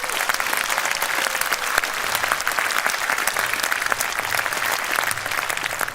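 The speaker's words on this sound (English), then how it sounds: "Can I get a round of applause for that," A crowd at a political party rally gives a round of applause, steady dense clapping that holds at full strength for several seconds, loud and continuous with no talk over it.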